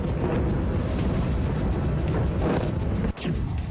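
Explosions in Kyiv, heard as a sustained roar of heavy booms and rumbling blasts with sharper cracks near the end, loud and continuous with no voices.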